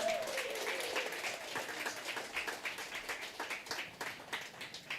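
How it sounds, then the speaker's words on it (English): Applause from an audience at a business workshop award presentation, an initially full burst that thins into scattered, rhythmic individual claps with distinct hand strikes toward the end. "let's give a round of applause as she comes on stage"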